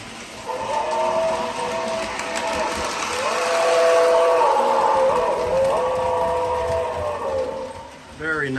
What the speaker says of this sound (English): this is a true blast tender, so it should have a whistle in it